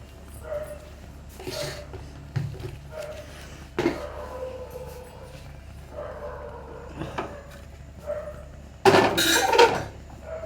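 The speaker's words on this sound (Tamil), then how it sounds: "அதுக்கப்புறம் ஒரு கடாய் வச்சு" A kadai, an Indian wok, set onto a stove: scattered metallic clunks and knocks of cookware being handled, ending in a louder clatter near the close, with no talk.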